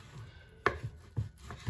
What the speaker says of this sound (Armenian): այսպես հիմա լավ կտրատեմ սիրուն կտորների